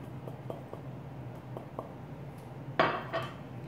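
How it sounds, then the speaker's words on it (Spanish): A cup of brown sugar going into a mixing bowl, heard as a few faint taps and clinks of utensils, then a louder brief scraping clatter of dish and spoon near the end, with no talking. "Ahora le voy a agregar una taza de azúcar morena."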